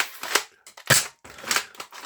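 An orange Rough Cut foam dart blaster is worked and fired, giving a few sharp plastic snaps and clacks in quick, uneven bursts with brief gaps between them.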